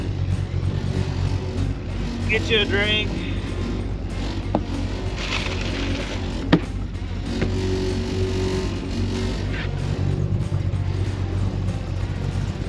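A squarebody pickup with a supercharger blower and a J-B Weld-repaired engine idles in Hot Rod Power Tour traffic. Its low, steady rumble runs throughout, with a few brief clicks and a short spoken phrase.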